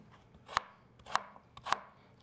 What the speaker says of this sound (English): Just cut up the potatoes to small pieces,